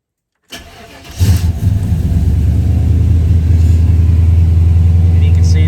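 A V8 engine in a 1994–95 GM B-body car cranks and catches, then settles into a steady, loud, close-up idle rumble with a low, even throb.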